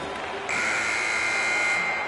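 An end-of-game buzzer in a PS4 hockey video game, a sustained flat electronic tone that starts abruptly and holds steadily over faint background noise, with no talk.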